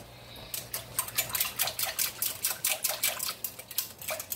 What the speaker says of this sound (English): So I'll put a little bit more water in there and whisk it up.